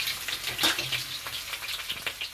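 Onions, cumin and bay leaves fry in oil in a wok, a soft crackling sizzle with small irregular pops and a few stirring scrapes, fairly faint and without talk.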